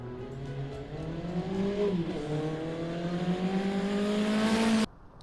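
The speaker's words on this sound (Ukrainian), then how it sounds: "мотоцикл." A motor vehicle engine revs steadily for about five seconds, its pitch rising and sliding, loud and close, then cuts off abruptly into near silence.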